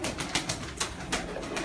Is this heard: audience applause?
no